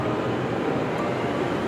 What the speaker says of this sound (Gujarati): આપણી મેટ્રો ટ્રેન આવી ગઈ છે અત્યારે